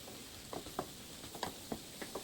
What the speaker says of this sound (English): I can hear my onions starting to saute here.